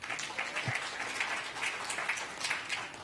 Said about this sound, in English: Okay, another round of applause to our panelists.